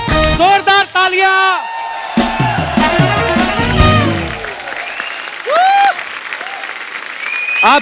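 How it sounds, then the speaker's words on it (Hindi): Loud applause from a TV comedy show studio audience with cheers and whoops, voices calling out over the clapping, which continues steadily throughout. "जोरदार तालियां।"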